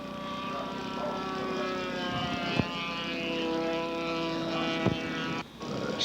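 Scale model airplane with an OS engine taxiing out, its small propeller engine droning steadily with a buzzing, harmonic-rich whine and a couple of brief bumps, heard fairly close with no talk.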